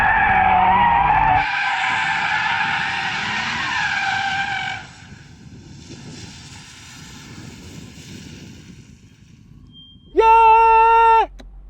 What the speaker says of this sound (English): I'm in an Audi RS3, dum dum, and I'm trying to drift it carefully,